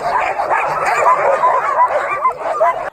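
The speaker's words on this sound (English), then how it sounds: "they were literally barking their heads off" Several sled dogs in Banff, Canada, barking and yipping excitedly at once before a ride, a rapid overlapping chorus with a few whines, close and loud, stopping abruptly at the end.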